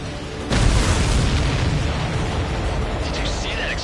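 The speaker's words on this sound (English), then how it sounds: "Did you see that explosion? Looks like that's one of them down." An enemy supply ship blowing up in the video game Ace Combat 7: a sudden heavy boom that rolls into a long, loud rumbling roar with fainter tones late on.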